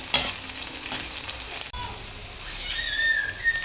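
Green peas and curry leaves sizzle and crackle in a hot pan, a steady close frying hiss with light stirring scrapes running throughout, briefly cut off midway and then resuming.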